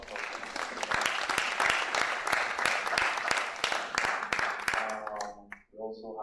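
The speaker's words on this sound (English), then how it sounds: "Please, a round of applause." Audience applause at a university market research lecture, steady dense clapping from a crowd for about five seconds before it fades out.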